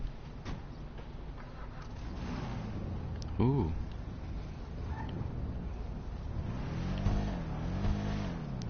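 A Tulip muscle car idles in GTA, a low rumbling engine running steadily with a brief throttle blip, heard from inside the car while a voice makes a short exclamation.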